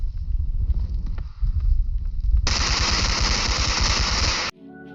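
Sustained automatic gunfire from the hyper-real bodycam-style first-person shooter Bodycam, a dense loud burst of rapid shots starting midway over a rumbling low background, then cutting off abruptly near the end.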